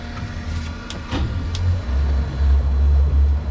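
A Bannex 1000 electric fishing reel on a boat, straining and making odd noises, a steady low whirring motor hum that surges and wavers in pitch over a few seconds, with a brief click near the start.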